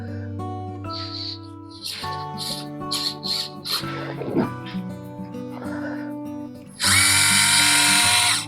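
A small electric motor in a 12th scale model military jeep whirs in fast gear, starting and stopping in short bursts before a loud sustained high-pitched whine at the end, with a voice speaking in between.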